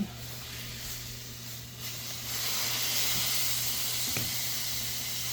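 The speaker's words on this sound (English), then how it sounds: "we're going to pour this right into our next pan so this can start cooking down" Ground beef hisses and sizzles steadily in a hot paella pan, a broad continuous frying noise that grows slightly louder partway through.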